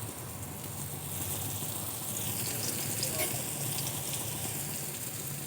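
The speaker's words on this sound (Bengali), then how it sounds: "এভাবে করে ভেজে নেব।" Palm-fruit batter fries in oil on a flat griddle, giving a steady, soft, even sizzle like light rain that runs throughout at low level.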